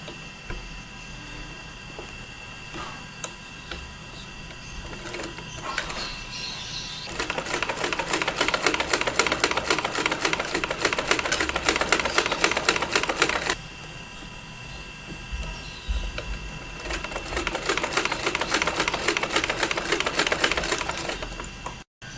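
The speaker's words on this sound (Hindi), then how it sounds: "अब मैं यहाँ पर इस तरह से इसके साथ साथ सिलाई लगाऊंगा।" A sewing machine stitching fabric for a men's suit runs in two long, fast bursts of rapid, even clatter. Quieter handling noises and pauses come before and between the bursts.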